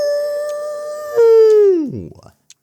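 Beastly howling from the Tsukihime visual novel: a loud, sustained tonal howl that holds steady, then rises and slides sharply downward into a rough fading growl, alone and close.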